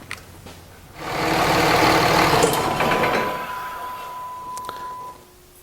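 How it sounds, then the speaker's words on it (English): A Dodge Cummins 5.9 diesel truck engine cranks and fires, then settles into a steady, loud idle for several seconds before cutting off abruptly, with no talk over it. "see if the truck starts"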